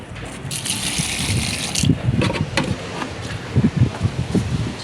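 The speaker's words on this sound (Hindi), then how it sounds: "डल ही गया पेड़ पौधों में पानी" Water poured from a container onto potted garden plants gushes in a steady splashing rush for a couple of seconds, followed by scattered thuds and knocks as the watering continues.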